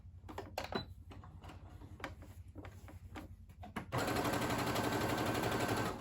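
A sewing machine runs steadily while stitching the corner of a square pillow, preceded by a few irregular clicks and short bursts, then a continuous loud mechanical whir for the last two seconds.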